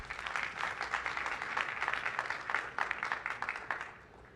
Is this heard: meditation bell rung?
no